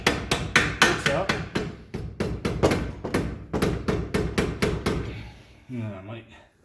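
Sharp hammer blows knocking bolts out of a Nissan Sentra strut assembly during a shock and strut replacement, a rapid run of loud, close metallic strikes with slight pauses, easing off toward the end into a short ringing tone.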